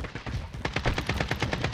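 Rapid gunshots in Call of Duty Modern Warfare, a steady rhythmic volley of close, punchy shots fired in quick succession with no speech over them.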